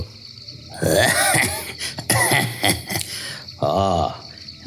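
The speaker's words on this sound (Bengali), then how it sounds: "খক খক করে দুবার কেশে নিয়ে বিশু বলল" A storyteller delivers a throaty, performed cough in a Bengali village ghost story, two harsh bursts breaking up close, loud spoken narration.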